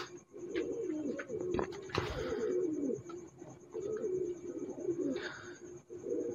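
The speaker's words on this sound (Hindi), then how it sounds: "बहुत प्यारा कबूतर है, ये इसकी मादी है जी।" Pigeons coo repeatedly at close range, a soft low rolling call that carries on with short pauses, alongside a few faint chirps and light rustling from a pair of high-flying star-eyed pigeons.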